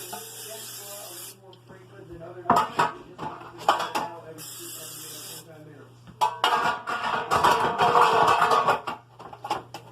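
Metal bread pans clatter and clank in irregular bursts, mixed with short hissing sprays of olive oil, with a busier run of rattling toward the end.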